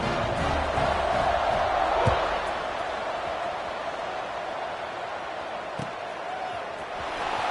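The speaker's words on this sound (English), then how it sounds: "They're set to kick it off, and this crowd now ready to get behind them." A football stadium crowd at a Vanderbilt versus Houston game roars in a steady, dense wash of cheering before a kickoff, loud and continuous with a few sharper shouts rising out of the din.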